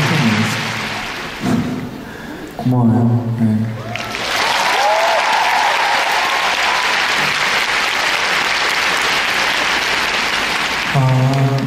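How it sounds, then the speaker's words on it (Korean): Concert audience breaks into loud, sustained applause lasting several seconds, dense and close, following a few short spoken words and music fragments, with brief musical notes returning at the end. "박수 한번 부탁드릴게요."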